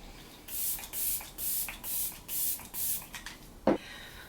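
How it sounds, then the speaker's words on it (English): e.l.f. Stay All Night Microfine Setting Mist sprayed onto a face: six evenly spaced soft hissing spritzes close to the mic, followed by a brief clack of the bottle. "I'm going to spray my face using the e.l.f. Stay All Night Microfine Setting Mist."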